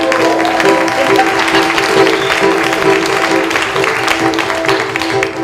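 Dense, steady applause from a festival audience, loud and close, sustaining evenly throughout with no speech on top.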